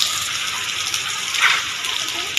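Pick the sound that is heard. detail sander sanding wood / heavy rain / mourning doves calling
heavy rain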